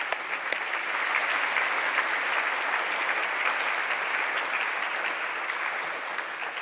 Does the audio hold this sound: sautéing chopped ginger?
no